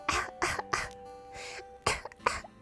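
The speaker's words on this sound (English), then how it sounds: "Here, ASMR cough." A streamer gives a series of close, dry coughs into the microphone, several quick bursts in a row, a short pause, then a few more coughs, loud and up front.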